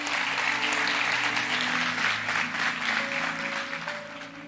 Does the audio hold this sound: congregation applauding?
yes